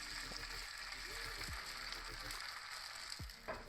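Steady oily sizzling of potato pancakes frying in oil in a pan, a constant crackling hiss with a couple of brief clatters and voices faintly in the background.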